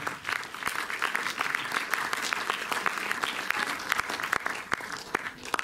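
A cinema audience at a film preview in Montreuil's Méliès theatre applauds steadily for nearly six seconds, a dense wash of many hands clapping close by with a few sharper individual claps standing out.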